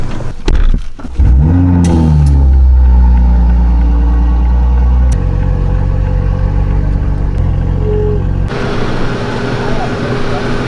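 A wrecked Toyota Supra is loaded onto a tow truck amid a deep, close engine rumble with revving, a clunk partway through and a shift to a rougher, hissing mechanical noise near the end.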